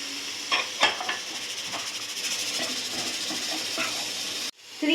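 Thinly sliced capsicum sizzles in a hot pan of spiced pav bhaji base with garam masala, cumin powder and pepper: a bright, constant hiss with faint stirring clicks, close and loud, cutting off just before the end.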